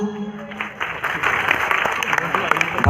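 An audience applauds after a bobale dance performance at a dance academy show. The clapping swells from quiet to a dense, loud crowd sound after the first second, with voices mixed in.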